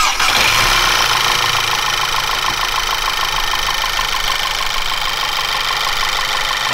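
A VW TFSI car engine catches and settles into a steady, loud idle, a continuous even rhythmic hum close by after the start, with no one talking.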